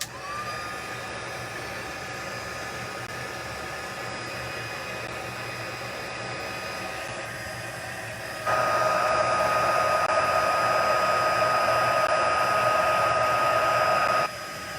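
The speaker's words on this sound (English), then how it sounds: "If you notice when I'm heat embossing, I don't move the heat tool around a whole lot" An electric heat tool blows a steady whirring stream of hot air while heat embossing, growing louder and fuller about halfway through before easing back at the end.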